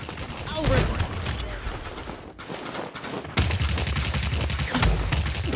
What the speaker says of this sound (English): Enemies are firing.